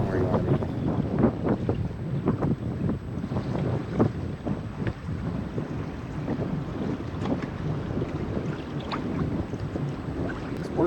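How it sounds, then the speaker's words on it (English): Steady, loud wind buffeting the microphone in a continuous rushing roar, with faint water and a distant voice underneath, during a topwater fishing tournament. "on these windy days like this. That wind's just shoving you"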